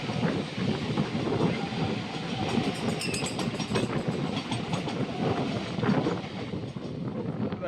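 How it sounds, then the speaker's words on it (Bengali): A crowded Mumbai local train, on the line toward Kalyan Junction, rolls past nearby with a steady, loud rumble and repeated rail clatter that lasts throughout, with no talk heard. "আবার এদিক থেকে একটা ট্রেন আসছে"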